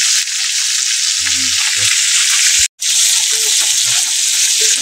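Food frying in a pan gives a steady, loud, close sizzle throughout, broken once by a brief silent gap, with a few faint low knocks and a murmur of voices beneath.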